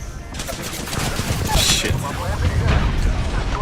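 Video game firefight with rapid bursts of gunfire and a grenade blast, dense and loud throughout, while players talk over the action.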